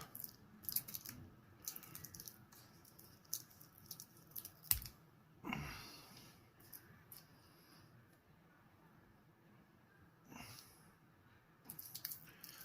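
Packaging of a Tissot V8 Swissmatic watch being unwrapped close up: scattered soft crinkles, taps and clicks with a few louder rustles and quiet gaps between them.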